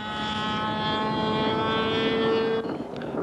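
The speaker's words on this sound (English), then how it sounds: "At first glance, it's hard to tell that the Blue Super Sportster is a model plane, but this propellered aircraft is made of balsa wood and covered in plastic" Blue Super Sportster balsa-wood model propeller plane, its small engine giving a steady, loud high-pitched whine with a constant drone, ending abruptly near the end.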